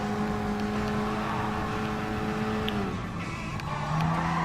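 Suzuki Swift Sport racing in Gran Turismo Sport with a steady, loud engine drone held at high revs. The pitch drops briefly as it shifts or lifts, then climbs again.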